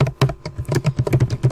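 Fingers type rapidly on a computer keyboard close to the microphone, a dense run of crisp, uneven key clicks with no talking.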